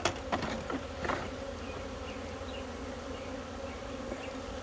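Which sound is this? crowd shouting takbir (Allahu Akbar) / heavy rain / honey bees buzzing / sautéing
honey bees buzzing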